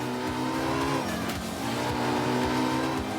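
A high-revving Porsche rear-engine car in a racing video game, its engine climbing and dropping through the revs with steady, loud, close tone and a continuous mechanical whine.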